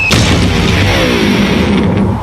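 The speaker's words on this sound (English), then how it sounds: "An electric guitar." An electric guitar thrown from a 20-story building smashes on impact, a loud sustained crashing boom with a sharp attack at the start and a dense rumbling clatter that holds at full level throughout.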